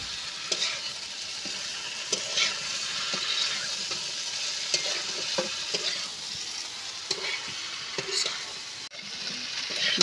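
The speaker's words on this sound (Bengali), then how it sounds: "এইভাবে নেড়ে চেড়ে কিছুক্ষণ নিয়ে ভেন্ডিটা আলুর সঙ্গে কষিয়ে নেব" Okra and potatoes stirred and fried together in a pan, with a steady close sizzle throughout and scattered scraping clicks of a spatula against the pan.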